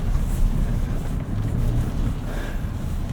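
A 2025 Nissan Armada Pro-4X crawling through mud ruts in four-wheel drive high, a low, steady engine rumble with rough rustling and wind buffeting, fairly close and with no talk.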